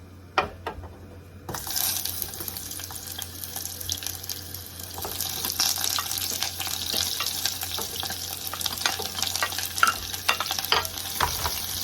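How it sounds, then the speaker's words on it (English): After a quiet start, onions and rosemary hit hot oil and fry with a loud, continuous sizzle and crackle, close up, with occasional stirring clicks and no voices. "So we're just going to put some rosemary inside the oil. Put in our onions."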